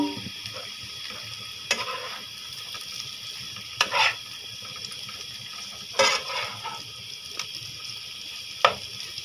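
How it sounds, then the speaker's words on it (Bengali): Fried crab pieces sizzling with onion in a pan make a constant soft hiss, with a few louder stirring scrapes at intervals, heard up close. "এভাবে এটাকে একটু ভেজে নিব পেঁয়াজের সাথে।"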